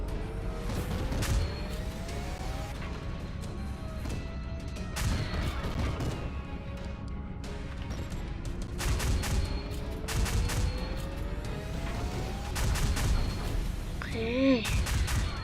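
Gunfire in the Roblox game Base Attack, with repeated shots and bursts over a busy battle soundscape of rising tones and crashes, while someone talks throughout.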